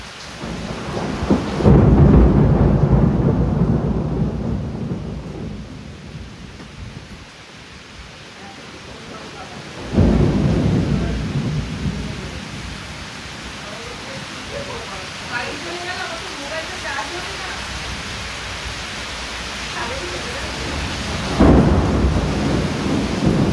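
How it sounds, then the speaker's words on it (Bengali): A heavy rainstorm with thunder at a cottage, steady loud downpour with several deep rumbling thunder rolls swelling in and fading over time. "কটেজে ঢুকতে না ঢুকতেই তুমুল বৃষ্টি।"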